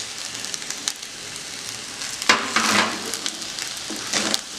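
Food frying in a pan after orange juice is poured in, a close crackling sizzle that surges in loud bursts midway and again near the end.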